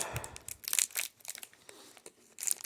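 Crinkly plastic packaging is peeled and crumpled around a small quartz cuvette in a series of close, quiet rustles and crunches with brief pauses, no voices.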